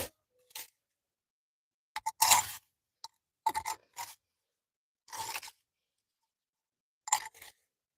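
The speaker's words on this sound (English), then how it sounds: "Same scenario, scraping." Garden scraping around a backyard bird bath, short, quiet bursts of scraping and clinking separated by silences, about eight irregular strokes, no talk.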